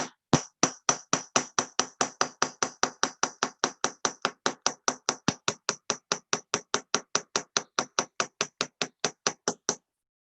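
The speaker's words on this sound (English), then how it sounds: "I can completely texture the entire thing using my hammer" Ball head hammer striking a metal stitch marker to texture it, about forty sharp, evenly paced metallic taps in quick succession, close and clear against a quiet background.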